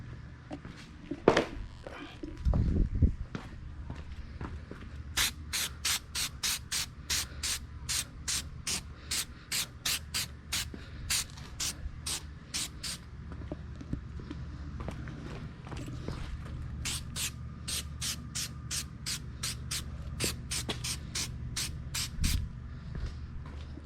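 Rapid, evenly spaced short spray bursts from a Meguiar's headlight restoration coating applied to a 2012 Chevy Cruze headlight, close and crisp, arriving in two long runs separated by a brief pause.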